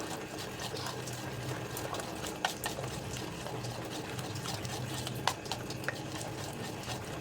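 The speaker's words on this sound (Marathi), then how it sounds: "छान फेटायचं आहे हलकं होईपर्यंत" Moong dal dhokla batter being whisked in a bowl until light, a steady continuous stirring and beating with occasional sharper taps against the vessel, close and fairly faint, no voices.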